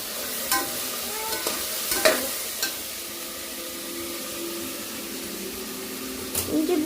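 Spices tempering in hot oil for biryani, a soft continuous sizzle with several sharp spoon clinks and stirring knocks against the pot, close by with no talking.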